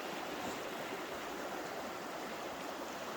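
A winter creek rushing steadily up close, a dense unbroken wash of flowing water with no voices and no pauses.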